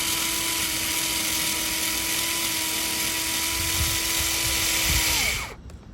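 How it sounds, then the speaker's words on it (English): A power drill whines steadily at high pitch while drilling through a plastic fog light housing on a 2011-2016 Scion tC, holding constant for several seconds before winding down and stopping abruptly. "I'll just drill through until it goes through the housing"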